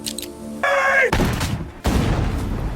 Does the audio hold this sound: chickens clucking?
no